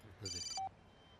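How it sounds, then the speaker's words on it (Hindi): A telephone rings once in a short, bright electronic trill with a higher tone at its tail, close and clear above faint room noise. "फोन आ गया, इंपॉर्टेंट फोन है"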